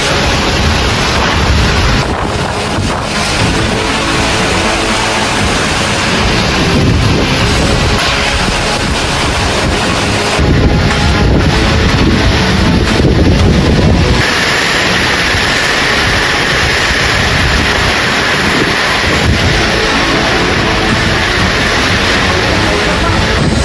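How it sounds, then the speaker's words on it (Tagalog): Strong typhoon wind in Camarines Norte roars and buffets the microphone without pause, a loud, rushing wall of noise with gusty surges and no voices. "Grabe po ang lakas ng bagyo. Dito sa Camarines Norte. Lakas ng hangin"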